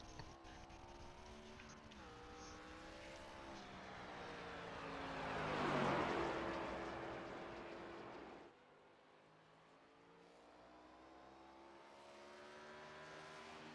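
A race car in an ARCA sim racing game heads out on track at Nashville. Its engine note climbs and rises to a loud pass around the middle, then drops away and slowly builds again as the car accelerates.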